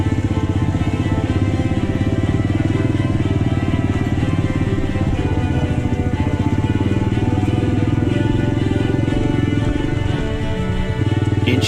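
An off-road vehicle's engine throttling forward slowly along a camping trail, a loud steady droning rumble that holds throughout with slight shifts in pitch near the end.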